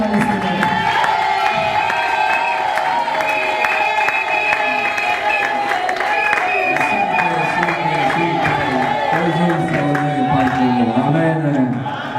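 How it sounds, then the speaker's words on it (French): A church congregation at a worship service for the nation in Congo loudly acclaims the Lord, with sustained cheering, clapping and shouting from a large crowd that fills the space without pause over a steady musical drone. "nous acclamons fortement le Seigneur"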